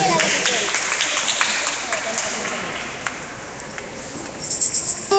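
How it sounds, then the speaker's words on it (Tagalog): Church congregation applauding for a mother being honoured, a broad, sustained patter of claps at moderate level that gradually thins out, with a few sharper claps near the end. "Isang malakas na palakpak po para sa ating mahal na ina."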